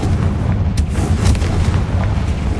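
A Confringo fire spell from Hogwarts Legacy bursts into a sustained, loud, rumbling explosion with a dense low boom and crackling debris that lasts throughout, with no voices.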